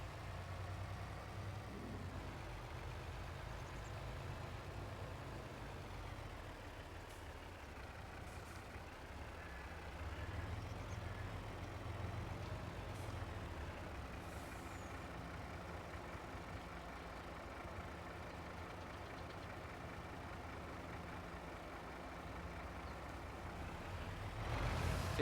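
A Cummins truck engine idling and rumbling steadily in Farming Simulator 22, a low continuous drone with occasional brief air-brake hisses, fairly faint and even throughout.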